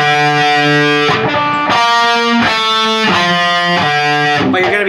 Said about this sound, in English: you're playing on your 3rd string and alternate picking between that one and your 4th string